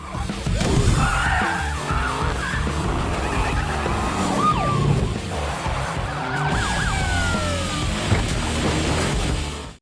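Police car chase from a heist film: engines roar continuously as tires squeal and skid in repeated sliding wails, loud and close throughout.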